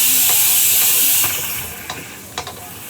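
A pressure cooker whistle hisses loudly with a high, steamy rush that fades down, followed by a few faint clicks.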